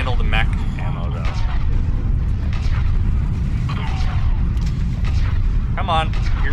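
Mech gunfire in the game Mass Effect 3, a dense booming barrage under a steady loud rumble, with someone speaking over it throughout.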